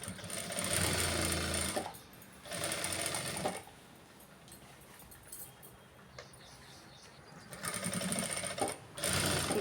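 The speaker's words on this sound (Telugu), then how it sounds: "ఇలా మెల్లగా నిదానంగా కుట్టు వేయాలి." Sewing machine stitching a blouse with embroidery: three close, steady bursts of rapid mechanical whirring, separated by quiet pauses.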